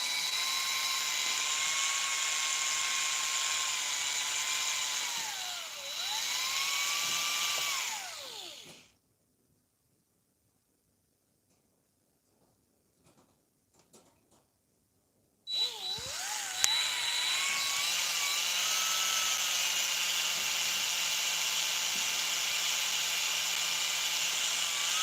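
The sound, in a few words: cordless drill running with a dying battery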